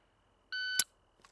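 A shot timer gives one clean electronic beep of about a third of a second, followed at once by a sharp crack during pistol grip practice on a USPSA-style range, then a faint click. No talking.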